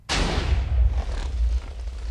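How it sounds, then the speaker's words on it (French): A large explosion goes off in a French construction video game, a sudden loud boom that roars on with heavy low rumble for about two seconds before easing slightly, with no voices over it. "et là ça fait une sacrée explosion."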